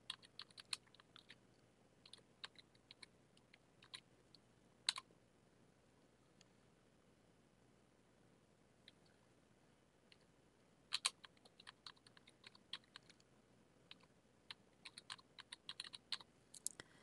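Keys on a computer keyboard clack in short, irregular bursts while text is typed into a Microsoft Word document, the taps faint and close over a quiet room, with pauses and a couple of louder clusters of strokes.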